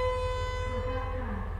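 A long steady train horn sounds at moderate distance over a low engine hum as a sleeper train departs Hat Yai, Thailand, with a brief voice in the background.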